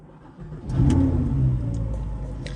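An Audi R8 supercar engine fires up with a quick crank, then catches and revs to a loud, throaty roar before settling into a strong idle, recorded close by with no speech.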